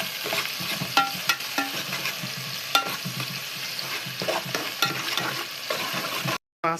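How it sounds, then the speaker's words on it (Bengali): Onions frying in a pan with steady broadband sizzle, punctuated by repeated spoon or spatula scrapes and clinks as they are stirred for a rohu fish curry; close and continuous, no talk, with a brief gap near the end. "পেঁয়াজ দিয়ে দিয়েছি, এখন লাড়াচাড়া করছি"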